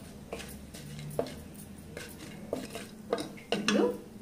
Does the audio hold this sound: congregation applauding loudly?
no